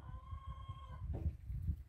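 Domestic poultry on a homestead, with geese among the livestock, calling in short bursts over a steady low rumble of farmyard noise, with fainter tonal calls early on and two brief louder honks near the end.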